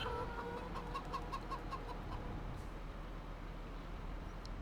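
Chickens cluck in quick repeated bursts over a steady low rumble of background noise in Farming Simulator 25, fading partway through.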